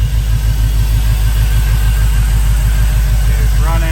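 A Chevrolet C10 pickup truck engine idles steadily, a loud, even low rumble that holds constant throughout with no revving.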